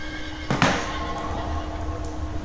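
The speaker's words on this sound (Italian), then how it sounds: "Cominciamo col prendere il bel cavallo" A horse in the video game Sacred lets out one short whinny about half a second in, rising sharply and then trailing off over a steady hum of game ambience.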